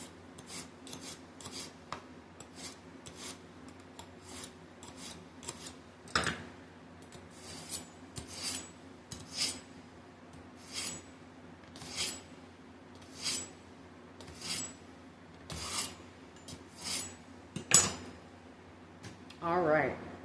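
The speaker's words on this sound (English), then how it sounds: "you're going to want to hone or sharpen your knife." A kitchen knife is sharpened or honed before cutting beef fat for tallow, with about a dozen separate rasping strokes spaced at a steady, unhurried rhythm, close and distinct over a quiet room background.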